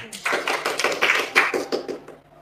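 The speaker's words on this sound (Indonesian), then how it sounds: "Tepuk tangan" A crowd at an Indonesian religious gathering claps in scattered, uneven bursts of hand claps that fade toward the end.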